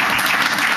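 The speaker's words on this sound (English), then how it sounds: "Let's give them a round of applause." A brief burst of steady audience applause from students and guests at a statehouse gathering, dense and continuous with no voices on top.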